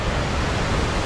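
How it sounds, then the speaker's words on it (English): Waterfall beside the John Muir Trail, a dense steady roar of falling water, loud and close, with no voices over it. "There's a waterfall"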